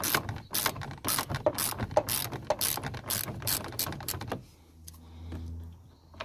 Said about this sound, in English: 10mm socket, the elusive 10mm, to put on to here, and then you've got to undo it